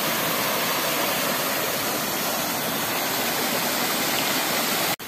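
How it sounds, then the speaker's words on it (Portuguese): Waterfall cascading into a natural pool behind a stone barrier in the sertão, a loud, continuous broadband roar of falling water heard close up without voices. "fica debaixo da cachoeira"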